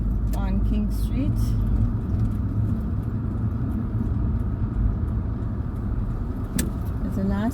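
A car drives through downtown Kingston, Jamaica, turning up King Street, its engine and road rumble steady and close throughout, with someone talking over it.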